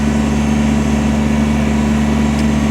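A 2023 Kubota BX23S 23 HP diesel sub-compact tractor backhoe raises its outriggers, heard as a loud, steady, close diesel engine drone with a constant hum and no talk.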